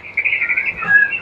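A white-rumped shama (murai batu) sings nearby, a clear, loud run of bright whistled notes that slide and warble, with no voices heard.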